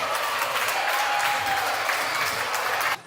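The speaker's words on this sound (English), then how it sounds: "can I have the biggest round of applause here for Mr. Naveen Garg from Garg Solicitors" An audience at a Holi celebration event claps for a sponsor, with dense, sustained applause at a steady loud level for about three seconds, then dropping away abruptly.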